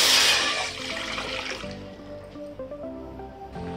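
Water comes to a boil in a cooking pot before watermelon peel pieces go in for homemade tutti frutti: a loud rushing, bubbling wash at first that settles into a quieter simmer with faint tonal hum.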